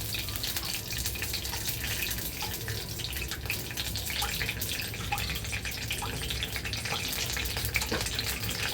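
Curry leaves drop into hot oil for a fenugreek and spinach gravy, giving a steady, dense sizzle and crackle close up, continuous throughout with small pops and no talk.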